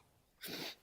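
A single short sneeze, fairly soft and close, standing alone against a quiet background.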